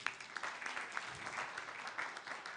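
Audience applause in a conference hall for the Vice Mayor of Bekasi City at a plenary and closing session, a steady, moderately distant wash of clapping with no voices.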